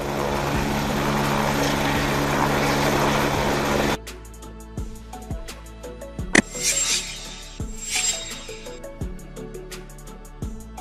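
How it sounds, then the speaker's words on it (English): A Coast Guard helicopter used for sea search and rescue gives a loud, steady broadband roar for about four seconds, then drops away to a quieter stretch with scattered knocks and a brief whooshing swell. "This is a helicopter used by the Coast Guard for missions such as sea search and"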